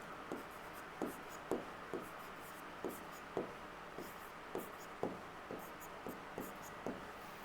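A pen writing numbers on paper, soft rhythmic scratches and taps repeating about every half second, close and quiet, with no talk over them.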